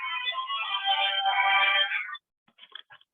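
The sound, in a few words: phone ringing with incoming call from office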